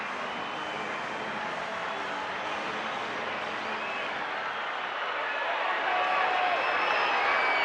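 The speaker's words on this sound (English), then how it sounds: "The loudest we have heard this crowd so far tonight" A baseball crowd at Petco Park in San Diego roars loudly during a Padres home game against the Chicago White Sox, a dense, sustained wall of cheering that builds toward the end, with faint voices mixed in.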